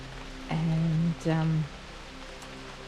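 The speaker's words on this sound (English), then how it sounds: "it's raining pretty steadily now" Steady rain falls outdoors on a cool afternoon near trees, an even broadband hiss that continues throughout while a person speaks briefly over it.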